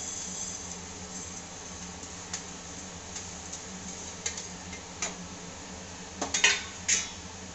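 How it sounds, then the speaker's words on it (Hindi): Mixed lentils dry-roast in a pan with just a drop or two of oil, a faint steady background hiss broken by light ticking clicks that grow into a few louder metallic clinks near the end. "इस दाल के लिए सबसे पहले मैं इस दाल को भूनूंगी।"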